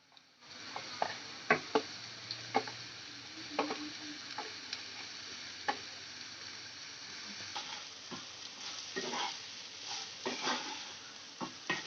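Grated raw plantain with turmeric and salt is stirred in a hot pan for plantain puttu, with repeated spoon scrapes and taps over a soft steady sizzle, close and without talk.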